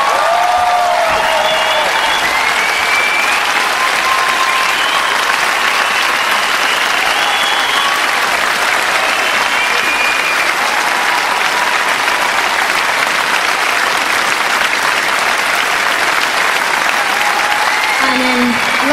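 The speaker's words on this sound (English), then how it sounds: "could you please give them a huge round of applause?" A large concert crowd applauds and cheers for the orchestra at a live show in Luxembourg's Rockhal, a loud, dense, continuous roar of clapping with whistles and shouts throughout.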